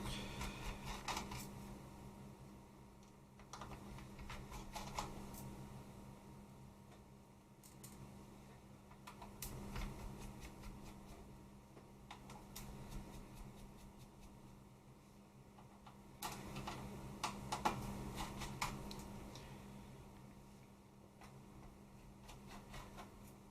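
Small screws being backed out of a Phat PlayStation 2 (SCPH-500x) with a screwdriver: faint, sparse clicks and light metallic ticks in a quiet room, with occasional handling rustle.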